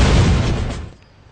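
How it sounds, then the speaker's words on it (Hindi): A single loud gunshot rings out in a tense standoff scene of an Urdu-language TV drama, a sharp blast that rolls off into a fading rumble with no voices. "आकिफ, गोली चलाओ।"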